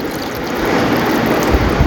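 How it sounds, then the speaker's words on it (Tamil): Two tumblers of water poured into a pot for chicken soup, a continuous broadband splashing rush that builds and holds for a couple of seconds, close and fairly loud with no talk. "நான் ஒரு 2 டம்ளர் தண்ணி ஊற்றிக்கிட்டேன்"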